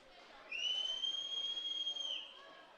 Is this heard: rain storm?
no